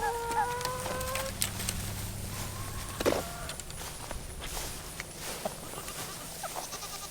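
Goats on a farm give a few short bleats in the first three seconds, with footsteps and rustling around them in an outdoor pen, then quieter shuffling follows.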